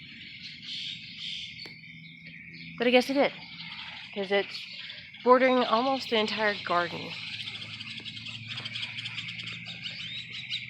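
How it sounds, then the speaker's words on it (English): Frogs and birds call from a backyard garden with chickens nearby, a faint steady chorus of high chirps running throughout beneath a person speaking in the foreground. "you can hear the frogs in the background and the birds and the chickens"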